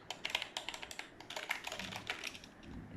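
Keys clicking on a Zebronics Transformer full-size keyboard, a quick rapid run of close, crisp taps that slows and fades into softer scattered presses, with no talking.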